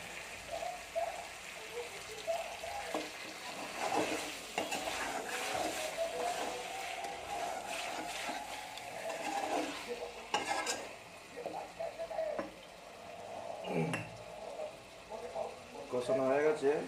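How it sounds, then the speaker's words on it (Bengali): Chicken leg pieces cooking with spices in a pan, a soft sizzle under intermittent scraping and clanking of a spoon against the pan as it is stirred, with a voice talking over much of it. "ভালো করে মাংসটা কষি নেবো"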